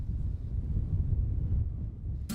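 Wind rushes steadily past a cable car climbing to 1,750 metres over Costa Rican or Panamanian forest, a low continuous rumble and buffeting with no other sounds, ending in a brief burst of noise.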